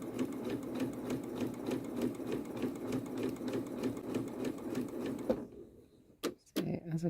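A Janome sewing machine stitches a rolled hem with a hemmer foot, its fast, even mechanical chatter running steadily for about five seconds before stopping, followed by a few quiet handling knocks.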